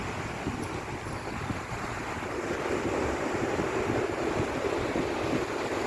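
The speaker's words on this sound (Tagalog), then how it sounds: "Hangin to the max." Strong wind blows at sea in a constant, loud roar that buffets the microphone, with surf and water noise underneath and no pauses.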